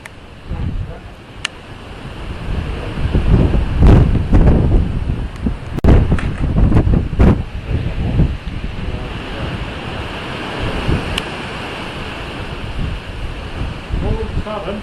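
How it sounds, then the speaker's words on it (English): Strong wind gusts roar across the microphone outdoors near monastery walls, a loud continuous buffeting rumble that swells and dips, with brief voices and a few sharp knocks mixed in. "the wind, as you can see, out of nowhere, has just picked up really, really bad"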